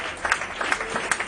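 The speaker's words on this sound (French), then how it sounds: "Donnons une acclamation pour notre Dieu." A church congregation applauds during a service, producing a brief burst of scattered, fairly quiet clapping.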